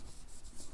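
Marker or chalk writing on a board during a Hindi-language general knowledge class, a short run of soft scratchy strokes at close range with no talk over it.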